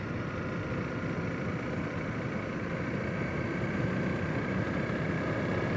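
Honda CRF300L motorcycle engine idling on a dirt road, a steady low rumble that holds at an even level throughout with no speech.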